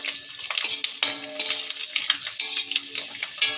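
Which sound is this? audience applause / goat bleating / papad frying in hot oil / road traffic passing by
papad frying in hot oil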